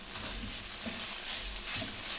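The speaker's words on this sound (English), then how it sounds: "So yeah, we stir the tomato paste." Tomato paste frying in a pot and stirred with a spoon, a close steady sizzle with a few soft scraping strokes of stirring over it.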